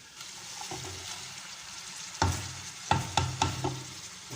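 Spices get stirred into Hadrami rice in a hot pot, a steady sizzle with a few scraping clanks of a spoon against the metal near the end.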